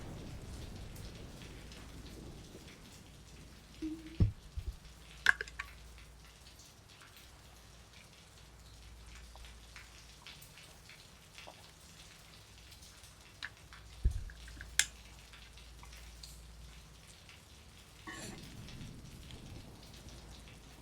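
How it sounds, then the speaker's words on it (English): Quiet, steady rainfall in the horror video game Fatal Frame II Remake, a soft patter under a few sharp knocks and distant thunder-like thumps around five and fifteen seconds. "It's only raining here, actually."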